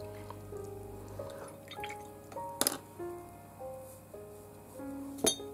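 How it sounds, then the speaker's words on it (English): A paintbrush being rinsed in water to remove sizing, producing soft drips, a couple of sharp clinks against the container, and faint trickles in a quiet room. "I have some water here just to take away the sizing."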